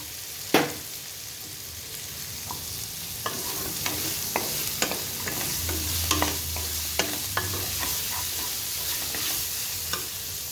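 Vegetables for shahi pulao are sautéed in a pan. A spatula scrapes and taps against the metal in scattered clicks over a continuous sizzle, close and moderately loud, with no talk.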